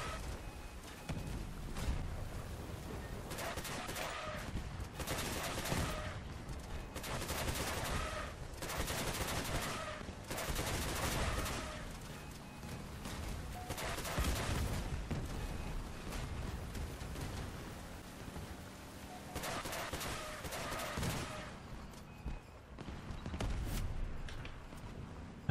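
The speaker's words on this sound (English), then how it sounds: "that's enemy fire" Sustained enemy gunfire in the Crossout vehicle combat game, a loud, dense run of repeated bursts and booms lasting throughout, with brief gaps between volleys and no talking.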